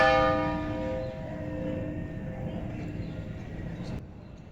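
Old church bell in a condemned church damaged by the 1990 earthquake, a single ringing stroke decaying over several seconds with a faint hum, set against distant outdoor background noise.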